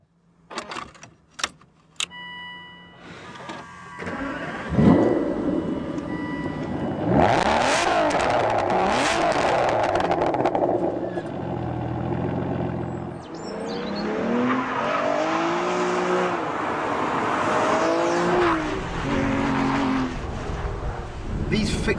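Aston Martin DBS engine starting and revving, then driving with rising and falling acceleration, loud and close, with some tire noise and a voice briefly heard.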